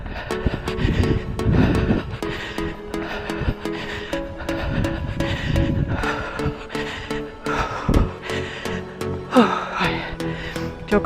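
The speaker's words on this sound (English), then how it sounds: "Apologise for the heavy breathing." A runner breathes heavily and rhythmically after running, with repeated loud gasping breaths, close to the microphone and mostly alone.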